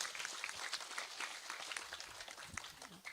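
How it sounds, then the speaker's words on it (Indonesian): An audience at a Friday morning religious study gathering claps in a soft, steady patter, fairly faint and continuous. "tepuk tangan dulu dong"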